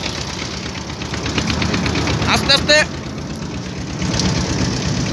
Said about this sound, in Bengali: ট্রলারটি আস্তে আস্তে ওই পারের দিকে যাচ্ছে